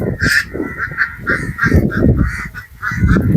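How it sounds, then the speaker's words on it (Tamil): Ducks, including males, quack loudly and close by in a rapid, repeating series of harsh nasal calls that nearly fill the moment. "இது ஆண் வாத்தா பெண் வாத்தானா?"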